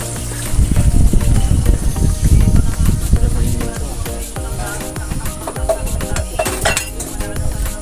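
Eggs cook in a pan as Kian fries them, with sizzling, clinking utensils and scraping against the metal pan, busy and close, with faint voices in the background.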